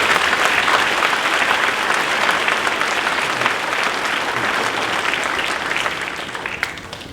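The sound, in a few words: audience applause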